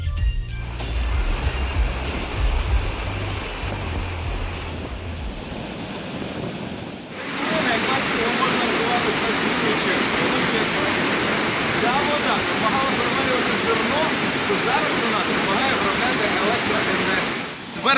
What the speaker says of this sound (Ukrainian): для тих, хто не розчув, це старий млин.